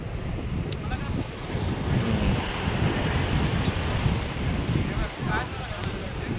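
Surf rolls in at Nagaon beach in Uran under gusty wind that buffets the microphone, a continuous loud wash of breaking waves with brief clicks.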